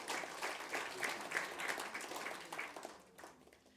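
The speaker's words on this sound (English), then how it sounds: "Give yourself a round of applause." Faint, moderately dense applause from a small concert crowd at a live music venue rises and falls briefly before tapering off, sounding distant and soft.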